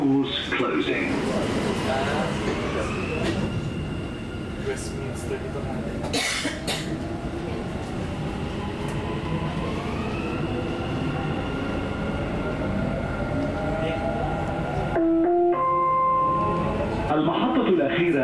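A Dubai Metro train running on the Red and Green Line: a continuous loud rolling hum with rising and falling motor whine, a cough partway through, and a station announcement chime near the end, with voices at times.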